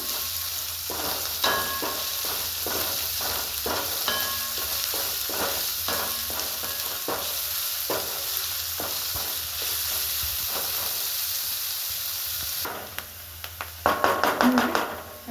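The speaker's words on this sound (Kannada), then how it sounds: "ಈರುಳ್ಳಿ ಹಾಕ್ತಾ ಇದ್ದೀನಿ. ಚೆನ್ನಾಗಿ ಹುರ್ಕೋಬೇಕು." Onions with curry leaves fry in a hot pan, a continuous bright sizzle broken by repeated stirring taps and scrapes of a spatula, growing busier and louder near the end.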